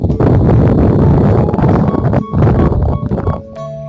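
Gusty wind buffets the microphone outdoors during wild fishing, a loud, low rumbling roar that surges and dips in uneven bursts before dropping off near the end.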